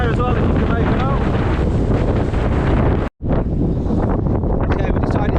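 Heavy wind batters the microphone high on Stanage Edge in the Peak District, a loud continuous roar that cuts out for a split second before surging back, with faint speech under it.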